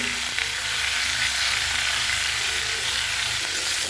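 Catla fish pieces with chopped vegetables, salt and turmeric sizzle steadily in hot oil in a pan, a loud continuous hiss with faint stirring clinks underneath.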